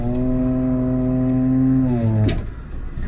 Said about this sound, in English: Now that, guys and gals, is how you three-wheel a car.